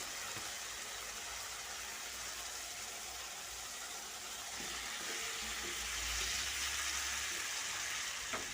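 Fried vegetables tipped into a pan of sizzling spiced masala with tomato and salt, a steady loud hiss of frying with faint clinks and a low rumble building toward the end.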